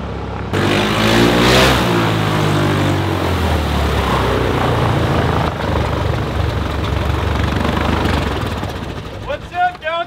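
A Carbon Cub light aircraft engine drones loudly and steadily nearby, a throbbing propeller hum that lingers, then fades toward the end.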